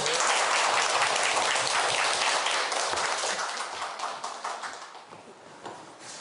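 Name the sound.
audience applause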